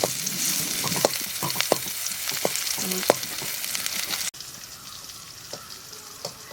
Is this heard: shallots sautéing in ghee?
yes